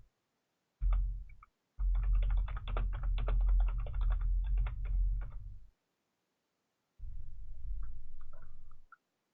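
Computer keyboard typing in steady rapid bursts, close and fairly loud, with a short burst, a long run of keystrokes, a pause, then another burst; no one speaks.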